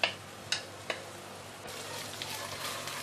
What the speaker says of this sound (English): Then we're going to saute the ginger and garlic